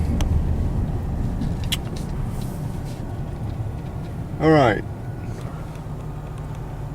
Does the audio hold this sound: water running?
no